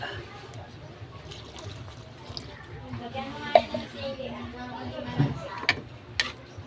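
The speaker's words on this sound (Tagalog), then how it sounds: "Lagyan na lang natin ng konting tubig saka lagyan natin ng miswa." Water is poured into a cooking pot for a misua noodle dish, a light trickle and splash heard under nearby voices chatting throughout.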